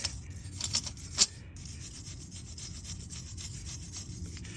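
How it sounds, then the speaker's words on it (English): Toothbrush bristles scrubbing slag off freshly wire-feed welded metal for a truck roof traction board mount, a quiet close rasping rub in short repeated strokes with a couple of sharper scrapes early on. "Let's see what happens when I use my toothbrush to brush the slag off."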